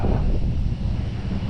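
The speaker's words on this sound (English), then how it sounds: "Actually, the wind, it ain't too bad." Steady wind buffeting a microphone while bike packing across America, a continuous low rumbling roar with no other sounds.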